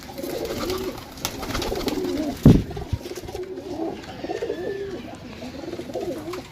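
Pigeons for sale at a market in Sarai Alamgir, Pakistan, cooing nearby in soft repeated calls, with one sharp knock midway and some faint voices in the background.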